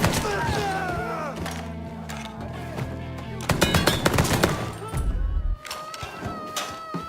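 Gunfire in the video game Mafia 3: repeated sharp shots and bursts over a game soundtrack and effects, loud and close, with heavier impacts partway through.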